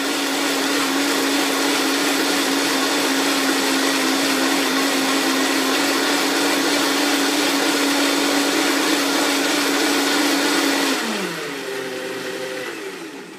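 A blender whirs loudly and steadily while mixing an Orange Julius, then its pitch drops and the motor slows to a lower, quieter hum near the end, with no talk.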